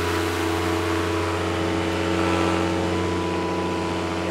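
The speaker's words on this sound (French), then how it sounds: "Stéphane coupe le moteur pour que l'hélice ne blesse pas son élève" A light aircraft engine drones steadily with its propeller in flight, a loud, constant buzzing hum with no change in pitch, heard alone throughout.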